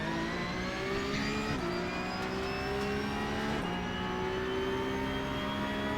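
Porsche 911 Cup (992.2) race car engine at Le Mans in the iRacing sim, a steady high-pitched drone with harmonics rising through gears, with brief shifts around a third and two-thirds through, loud and continuous with no talk.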